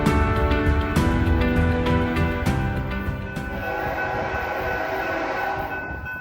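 A subway train rolls into a station with a loud rumble, screeching wheels and a blaring horn that fades into a steady mechanical drone.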